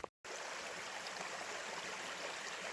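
Basin Brook, a stream along the Long Trail, flows in a steady, full rushing wash of water close by after a brief silent break, with no voices.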